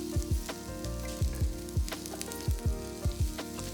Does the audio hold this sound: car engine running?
no